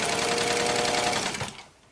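A sewing machine runs quickly along the handle of a cloth bag, a close, fast rattling stitch that halts after about one and a half seconds, leaving quiet.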